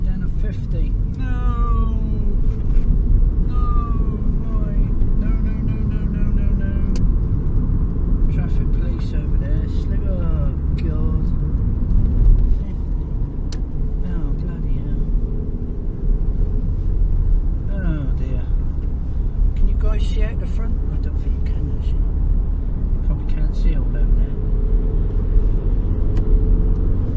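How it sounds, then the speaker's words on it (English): A car drives along a motorway, its interior engine and road rumble steady and loud throughout, with bursts of speech from the driver over the drone. "First ever time I've driven this car on the motorway."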